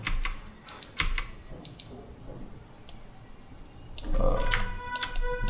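Repeated computer keyboard key presses, sharp close clicks in an irregular run with a denser burst of taps near the end, over low room noise.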